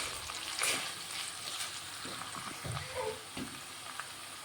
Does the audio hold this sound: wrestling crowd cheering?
no